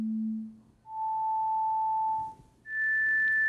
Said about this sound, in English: now see what happens when we play individual tones